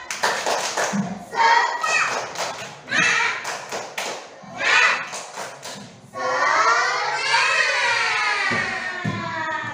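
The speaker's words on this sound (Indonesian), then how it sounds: "kita tepuk semangat dulu ya. Tepuk semangat." A group of people doing a rhythmic chant-and-clap cheer at a classroom coaching session, with bursts of sharp hand claps between shouted words, then sustained voices in unison.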